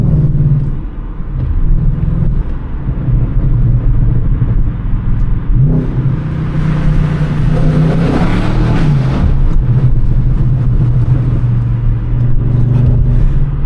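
Loud Audi S7 exhaust roaring in a tunnel, a steady deep rumble that swells into a harsher, echoing surge of revs midway before settling back to a heavy drone.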